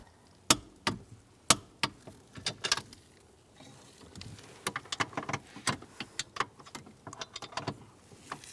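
A torque wrench tightens nuts to 20 foot-pounds while a steering wheel position sensor is replaced on a 2007-2014 Cadillac Escalade, making a string of sharp metallic ticks and clicks close by, sparse at first, then quicker and denser.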